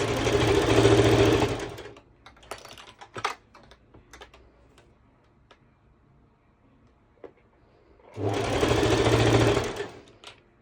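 A sewing machine stitches a ruffled mini skirt with built-in shorts, two loud bursts of rapid whirring separated by a quiet stretch of small clicks and fabric handling.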